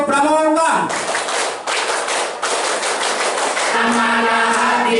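A group of Pramuka scouts claps a rhythmic scout clapping pattern at a scout working meeting, loud and close, with chanting voices at the start and end.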